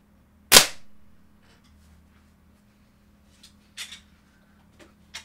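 A Crosman 1377c multi-pump air pistol fires one sharp, loud crack during target shooting, with a brief decay. Several faint, small clicks and knocks follow in otherwise quiet surroundings.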